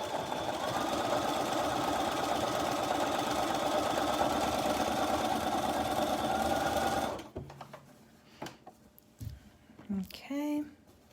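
A sewing machine stitches along a row in one loud, steady, unbroken whir for about seven seconds, then stops and leaves a few faint clicks and handling noises.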